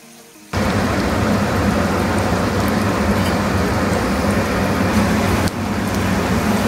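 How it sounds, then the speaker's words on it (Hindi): Baby corn dropped into hot oil for deep frying, a sudden loud burst of dense, rain-like crackling sizzle that holds steady and close, dipping briefly before continuing. "तेल अब गर्म हो गया है तो अब मैं इसमें बेबी कॉर्न को डाल रही हूँ फ्राई करने के लिए"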